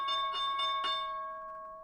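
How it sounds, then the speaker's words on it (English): A stock market opening bell rings out several quick struck tones at the open, then leaves a bright, steady ringing that slowly fades. "I know you hate the bell every morning."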